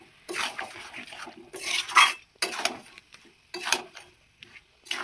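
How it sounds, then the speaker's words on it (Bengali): Raw mango and jaggery stirred in a pan, a spoon scraping and clinking against the metal in irregular bursts with short pauses between, close and soft. "একটু ভালো করে মিশিয়ে নেবো গুড়টার সাথে আমটা।"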